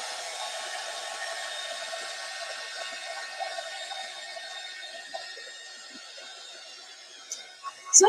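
Dryer blowing steadily over a stamped mixed-media craft project, a continuous close airy rush lasting most of the clip, with a few small knocks near the end.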